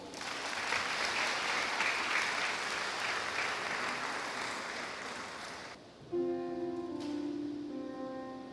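Congregation at a Sunday worship service giving sustained, dense applause for nearly six seconds, fading slightly before it cuts off and a sustained keyboard or organ chord begins.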